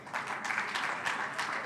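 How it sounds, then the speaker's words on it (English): Applause for sponsors at a political brunch event, heard as a short, dense patter of clapping from a moderate crowd, steady and somewhat distant. "One more round of applause for them."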